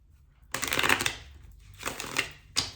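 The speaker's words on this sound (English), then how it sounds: "I'm shuffling the cards in front of you so I can get your energy" Tarot cards being riffle-shuffled up close, three crisp bursts of rapid flicking separated by short pauses, fairly loud with nothing else audible.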